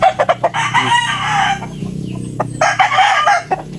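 A rooster clucks and calls loudly nearby in repeated bursts, with short pauses between the sounds and no talking.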